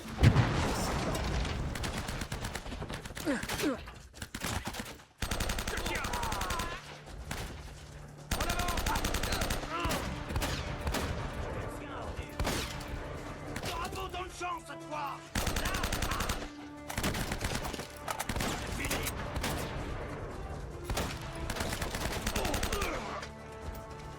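Gunfire rattles through an Uncharted boss fight, loud bursts of automatic fire and single shots with booms, broken by brief gaps, over a busy game soundscape.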